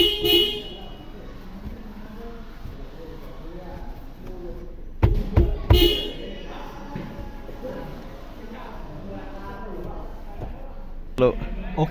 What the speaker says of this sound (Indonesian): untuk bunyi klakson dari mobil tersebut masih sangat nyaring dan juga masih sangat layak pakai